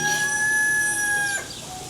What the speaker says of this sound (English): see chicken